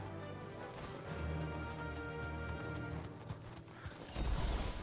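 A mount gallops in Final Fantasy 16, its hooves beating in a steady clip-clop rhythm that carries on throughout, moderately loud over the game's ambient sound, with no talking.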